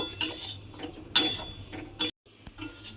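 A utensil scrapes and clinks against a pan while gram flour sandesh mixture is stirred, a few close, irregular metallic scrapes with brief pauses between them.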